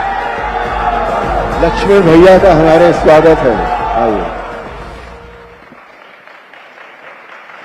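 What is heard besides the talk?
crowd applause and cheering welcoming Sunil Lahiri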